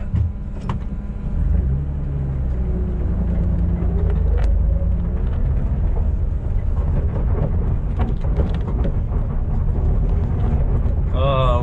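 A vehicle with a welded differential rolls along on a test drive, a continuous low engine and drivetrain rumble with a few clunks and squeaks, heard from inside, with a person talking over it.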